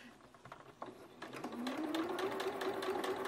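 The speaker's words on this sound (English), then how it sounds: "I'll just sew over top of that edge, that stitch line." A sewing machine stitches along the edge of a fabric coffee cup sleeve, first with a few handling clicks, then a steady close rapid whir that builds in pitch and holds.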